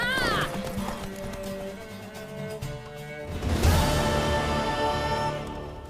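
Horse hooves clip-clopping in The Witcher 3 video game, steady rhythmic hoofbeats under in-game character dialogue, with a whinny near the start and a louder burst of movement midway.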